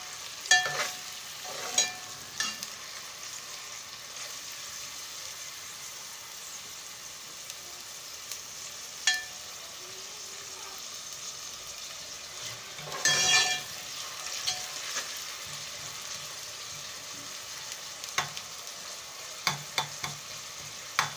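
Chopped onions frying in a pan for mutton qeema with peas, stirred now and then; a soft steady sizzle carries through, broken by brief scrapes and clinks of a spoon against the pan.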